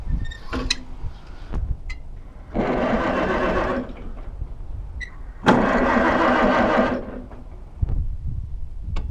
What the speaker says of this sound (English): it's cranking okay